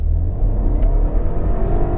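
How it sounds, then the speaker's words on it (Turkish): A 160 HP 1.8 TSI Volkswagen CC's engine roars low and steady as it accelerates at full throttle in sport mode, a deep continuous rumble with a rising whine, no voices. "Şimdi şöyle sport modunu alalım arabayı ve dip gaz yapalım."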